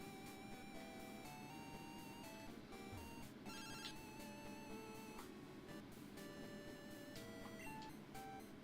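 Phone-like electronic ringing from the Pokemon Silver video game, a steady tonal trill layered over continuous game music, holding at a moderate level throughout.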